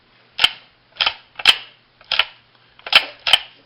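A Honda ATC 110 recoil pull starter being yanked six times, each pull a crisp ratcheting snap with a short rasping tail, close and loud in an otherwise quiet space, spaced roughly half a second to a second apart.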